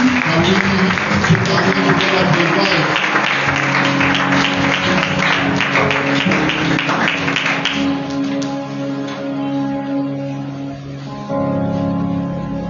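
Church congregation clapping loudly and steadily during a worship service, dense applause that thins out near the end into scattered claps over a sustained musical tone.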